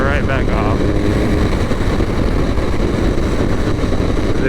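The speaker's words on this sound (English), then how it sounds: "the clutchless downshifting is so smooth" Motorcycle engine droning loudly and steadily at close range while the rider makes smooth clutchless downshifts, with a voice heard over the noise.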